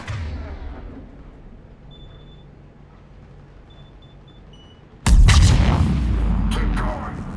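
Heavy gunfire erupts in the video game Mass Effect 3 after a quiet stretch of low ambient hum, a sudden loud, dense burst of shots and booms sustained to the end.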